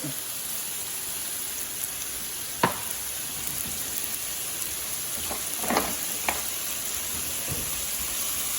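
Stir-fry noodles with sauce sizzle in a pan over high heat, a steady close hiss broken by a few sharp clicks and scrapes from stirring.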